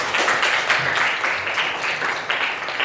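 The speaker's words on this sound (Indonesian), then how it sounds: "kita tepuk tangan dulu untuk kita semua" A school class of ninth-grade students claps together in their classroom, a brief burst of rhythmic, slightly uneven clapping that holds steady for a few seconds at moderate loudness.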